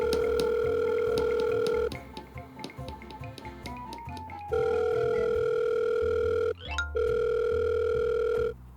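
Steady telephone dial tone during a call, loud and continuous, broken by a spoken recorded announcement in the middle before the tone resumes, then cut off briefly by a click and returning.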